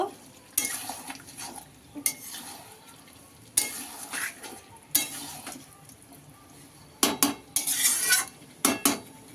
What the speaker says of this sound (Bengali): আলুটাকে দিয়ে ভালো করে একটু নেড়ে নেব।